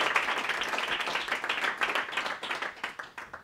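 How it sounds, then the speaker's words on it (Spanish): An audience claps together, a dense burst of applause from many hands that holds steady and then thins out and tapers near the end. "Un aplauso, ¿no?"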